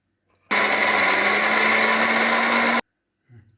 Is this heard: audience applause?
no